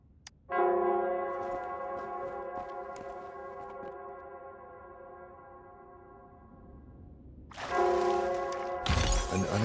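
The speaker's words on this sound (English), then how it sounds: "It would seem it's the bell." A single large bell tolls in the video game Wuthering Waves, a long resonant ring slowly fading, then struck again near the end with a brighter crash.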